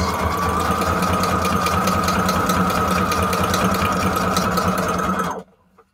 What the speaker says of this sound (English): I'm going to have to sew this and then the other side